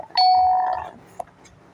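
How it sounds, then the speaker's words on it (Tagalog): A single electronic doorbell chime rings out close and clear, a bright sustained tone that decays over about a second, followed by a faint click. "Doorbell."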